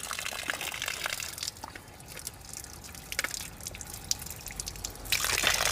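Water from an artesian well drips and trickles continuously beside a road in the Paraná countryside, with close splashing patter throughout and a louder gush near the end, no talking.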